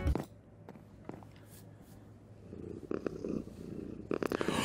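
A cat purrs softly and steadily in the Minecraft video game, a low continuous rumble with a few light taps and brief noises over it.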